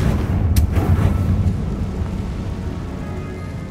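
A Confringo fire spell cast in Hogwarts Legacy lands as a loud, rumbling burst with a sharp crack near the start, then a thick, steady roar that slowly fades.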